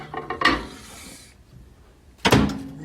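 A microwave door is pulled open with a sharp clunk and rattle, followed after a quiet pause by another loud bump, close by in a kitchen while a burger is being made.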